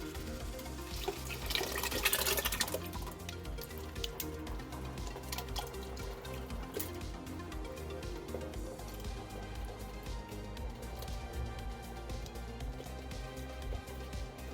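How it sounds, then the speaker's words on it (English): Wine and tomato puree hit a hot pan to deglaze it, giving a close, soft bubbling and liquid sizzle that flares briefly and then settles into a steady low simmer. "now you deglaze with your wine. And your tomato puree."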